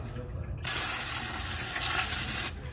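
Brake cleaner sprayed through an AC evaporator flusher gives a loud, continuous pressurized hiss lasting about two seconds, starting and stopping abruptly between quieter moments.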